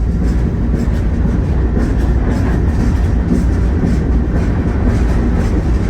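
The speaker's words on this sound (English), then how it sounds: "Yeah, there's the train." A freight train carrying a cyanide tank car rolls past close by in Illinois, a loud, continuous rumbling roar with rhythmic clatter from the wheels and no voices.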